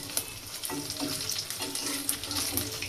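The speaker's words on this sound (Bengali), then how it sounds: "এই বড়াটা করলে একাদশীর দিন খেতে ভালো লাগে, তার কারণে কিন্তু এটা ভাজা।" Bora fritters deep-frying in oil bubble and sizzle steadily up close, broken by occasional stirring scrapes as they turn brown, and nobody speaks.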